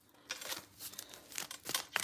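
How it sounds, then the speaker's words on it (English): Tarot cards are shuffled close up in quick bursts of papery riffling and flicking, with short pauses between the bursts and no talk. "let me go ahead and shuffle out these cards"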